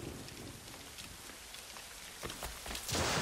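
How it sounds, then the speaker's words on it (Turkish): Rain in Assassin's Creed Rogue falls as a steady broadband hiss with scattered drop ticks, swelling louder at the end, with no voices. "Ne güzel yağmur yağıyor."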